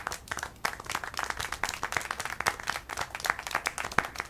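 A crowd applauds in the video game Syberia: The World Before, with dense, lively clapping. Sharp individual claps stand out in an uneven rhythm throughout, with no talking over it.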